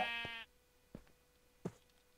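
A sheep in Minecraft on the Hermitcraft FTB modpack gives one short, wavering bleat near the start, followed by two soft knocking footsteps, with no talk.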